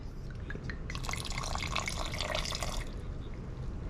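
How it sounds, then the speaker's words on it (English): Red wine splashed into a homemade tomato pasta sauce in a home kitchen, a brief liquid pour of about two seconds over a steady background hum, with no talking. "Final thing we need is a splash of red wine."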